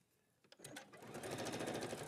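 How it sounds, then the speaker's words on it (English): Sewing machine stitching a fabric seam, a steady rapid mechanical whir that starts after a brief click and runs loud and continuous, close by, with no talking. "And then I'm going to sew that one together."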